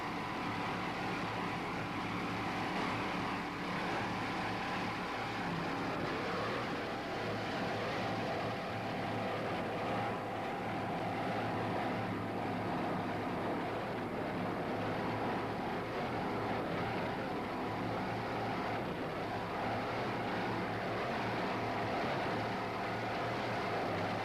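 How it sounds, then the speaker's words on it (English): Racing powerboat inboard engines roar in a continuous, steady drone, moderately distant and unbroken, with no voices over the engine noise. "These Monster machine inboards sound excellent"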